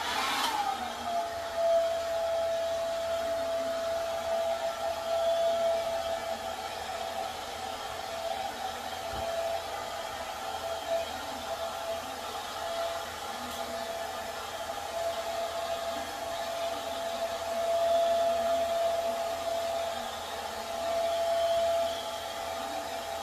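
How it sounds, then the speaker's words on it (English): A blow dryer runs on a beard continuously for the whole stretch, a steady airy whir with a faint high whine and slight shifts as it moves. "about to hit it with a blow dryer right quick"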